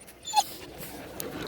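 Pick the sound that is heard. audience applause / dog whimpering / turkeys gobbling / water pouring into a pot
dog whimpering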